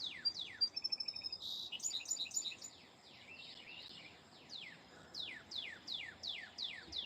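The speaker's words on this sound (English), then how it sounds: "The birds are quite excited." Birds chirp at sunrise in a fast run of bright, repeated tweets and trills, some close and some farther off, over a soft background hiss with no talking.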